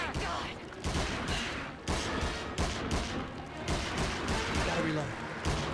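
Rapid 9mm gunfire from the King Kong video game, repeated bursts of shots packed closely together and loud throughout, with game sounds and speech mixed in.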